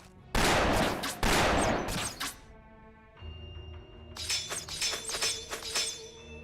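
Loud bursts of gunfire from the Fate/Grand Order video game: two heavy broadband volleys with a shattering crash, then a lower rumble and a rapid crackling series of shots.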